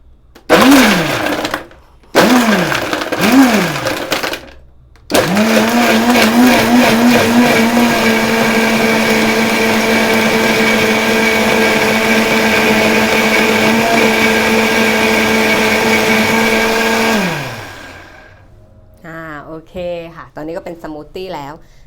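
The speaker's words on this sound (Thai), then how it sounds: "คราวนี้ก็มาถึงขั้นตอนการ ปั่น เนาะ" A loud blender motor whirs steadily for about twelve seconds after a few short bursts, then winds down, with a brief voice at the end, blending a mango yogurt lassi.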